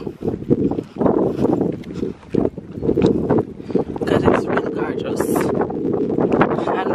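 Steady wind buffeting the microphone throughout, a continuous low rumble under a person talking.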